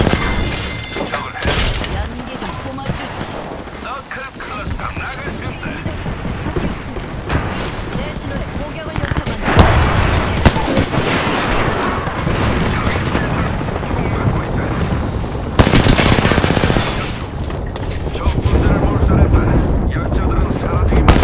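Game gunfire in Apex Legends, with bursts of shots and heavy impacts running loud and dense through a busy firefight, often layered under voice lines and speech.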